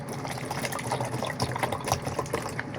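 Water splashes and gurgles steadily for a few seconds as it is poured or filled, a close, continuous liquid sound with no talking.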